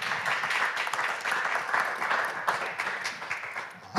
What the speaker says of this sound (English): please, a round of applause to all of our four wonderful